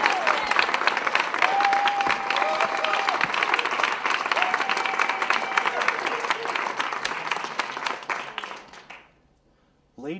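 A theatre audience breaks into warm applause welcoming a comedian to the stage, dense sustained clapping with a few cheers over it, holding steady before fading out near the end, followed by a brief voice.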